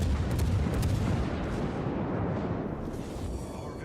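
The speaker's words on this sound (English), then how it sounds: "We're just gonna shoot a couple right through here." Heavy cruiser artillery salvos from a Tier 8 Admiral Hipper in World of Warships, a loud, dense rumbling boom that fills the whole stretch and slowly fades, with no voices over it.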